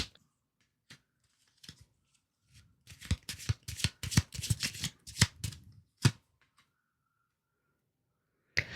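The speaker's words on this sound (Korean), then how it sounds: "추가 카드를 더 뽑아보도록 하겠습니다." Tarot cards shuffled and drawn from a deck: a few scattered soft flicks, then a dense burst of crisp riffling snaps, ending in a final slap and a quiet pause, close and alone.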